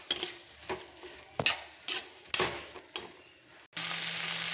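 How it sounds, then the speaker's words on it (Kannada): Brinjal fries in oil with tomato and onion for a chilli gravy: a spatula scrapes the pan in a few sharp, irregular strokes, then a steady close sizzle takes over. "ಇದು ಆ ಟೊಮೊಟೊ ಮತ್ತು ಈರುಳ್ಳಿ ಜೊತೆಗೆ ಎಣ್ಣೆಯಲ್ಲೇ ಫ್ರೈ ಆಗಬೇಕು."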